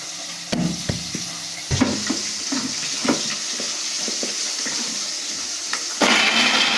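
Water is poured into a cooking pot holding whole garam masala, cumin, chopped ginger and green chillies, giving a splashing gush with scattered clinks and taps, then a louder, steady rush of water near the end.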